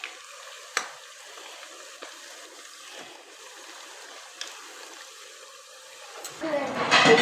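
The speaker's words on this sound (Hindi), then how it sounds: "इन्हें अच्छा सा गोल्डन फ्राई करना है।" Semolina and potato finger chips deep frying in oil give a soft, steady crackle that swells into a louder, close burst of sizzling in the final second.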